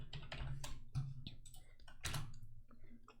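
Typing on a computer keyboard, a close run of quick, light key clicks in short irregular bursts with brief pauses.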